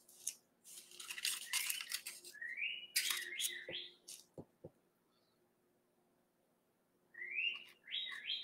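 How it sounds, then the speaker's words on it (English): A small bird outdoors after a light rain, singing in quick bright chirps and rising whistled phrases, with bursts at the start, a pause in the middle, then more calls near the end, fairly close and clear against a quiet background. "I don't know if y'all can hear that bird"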